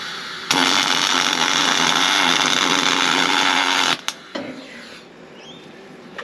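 Tack welding on a hot day gives a loud, steady crackling hiss that runs for about three and a half seconds, then cuts off, followed by a couple of brief clicks and a quieter background.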